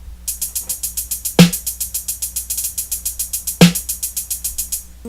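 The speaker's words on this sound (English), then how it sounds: "there's a little difference in the hats" Hi-hats from the final chorus of a pop-punk song play a steady, bright, rapid ticking pattern, broken twice by a louder snare hit, with no talk.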